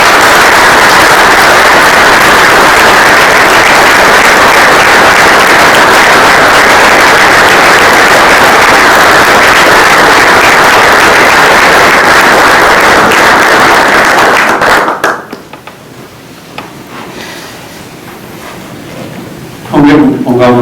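Church congregation giving sustained, dense applause at the close of a homily, loud and steady for about fifteen seconds before breaking off into a quieter room.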